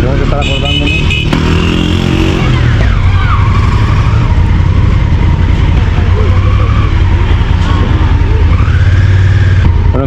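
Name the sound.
motorcycle engine running while riding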